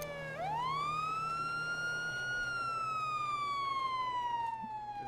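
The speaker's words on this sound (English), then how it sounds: "That siren's loud." A loud video game police siren in GTA V sweeps sharply upward, then slowly winds down in one long wail over a low engine hum.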